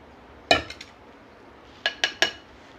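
Small spoonfuls of curd being scooped into a bowl for a homemade facial pack, heard as four short, sharp clinks of a small spoon against the dish: one near the start, then three in quick succession.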